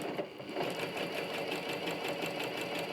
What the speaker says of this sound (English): I'm going to sew right up until I'm about to stitch over the pin, and then I'm going to pull the pin out.